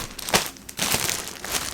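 Plastic packaging from a Shein clothing haul is opened, giving brief close crinkling and rustling bursts of handled plastic, one sharp crackle and then a denser rustle, with no talking.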